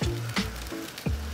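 Vodka sizzles as it cooks off in a pasta pan, a steady close hiss broken by a few soft scrapes and knocks from stirring.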